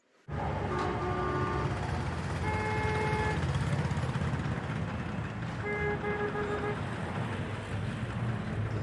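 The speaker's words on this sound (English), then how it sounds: "Street traffic, honking, ambience, atmosphere." Busy city street ambience with a continuous traffic roar and several car horns honking in short bursts, some stacked together, heard at a middle distance with no voices.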